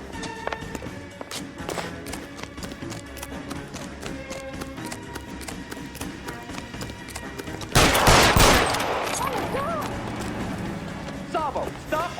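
Gunfire in L.A. Noire crackles as a run of sharp shots over busy game noise, then a loud burst erupts and fades gradually, while voices talk over it.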